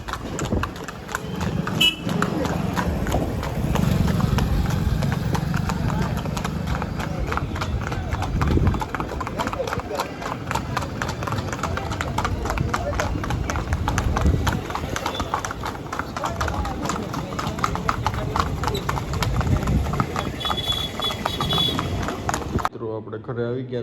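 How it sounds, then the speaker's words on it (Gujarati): A mare's hooves clip-clop in a steady walking rhythm, close and clear, while someone talks over them for most of the stretch. "ઘોડી હાલે બહુ સારી."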